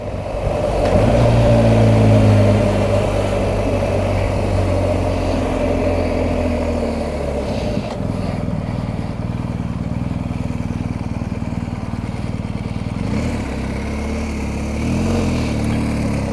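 A BMW R 1250 GS motorcycle on the ride home, its engine droning loud and steady with rising revs early on, gear changes and constant wind rush throughout.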